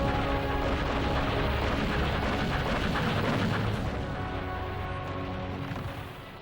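A massive artillery barrage from the 1954 battle of Dien Bien Phu rolls as a dense, continuous roar of overlapping booms and rumble, loud and unbroken, easing slightly toward the end.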